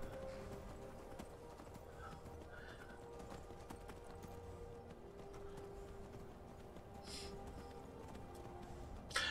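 Horse hooves clip-clopping steadily while riding on horseback in the video game Skyrim, a quiet, continuous trot with a brief whinny, faint beneath a soft background bed.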